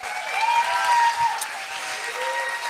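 Applause from the audience at a live California governor showdown event, a steady wash of clapping held for a few seconds, with faint tonal sounds and a little background voice mixed in.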